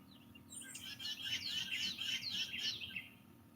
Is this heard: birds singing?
yes